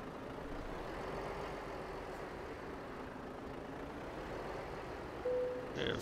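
A Volvo truck engine idles in Euro Truck Simulator 2, a low steady rumbling drone at moderate level with no talk, ending with a brief higher electronic beep.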